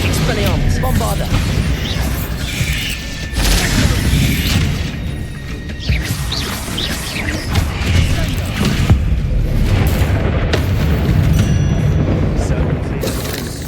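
Bombarda and Confringo spell explosions during Hogwarts Legacy combat, repeated booms and crashing bursts within a constant, loud wash of battle effects, with spoken voices shouting spell names over them.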